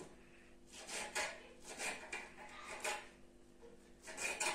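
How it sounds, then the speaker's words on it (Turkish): A knife chops food into long pieces on a board in a home kitchen, giving a series of faint, close, rhythmic scraping cuts about twice a second. "Ben şöyle uzun uzun doğrarım arkadaşlar bunu."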